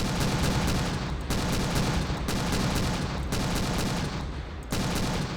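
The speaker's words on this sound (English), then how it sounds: "let's go ahead and hit that that M113 now with some armor piercing" Armor-piercing rounds hammer an M113 armored carrier in the Call to Arms Ultimate War Mod, a dense, loud stream of automatic cannon fire with brief breaks between long bursts.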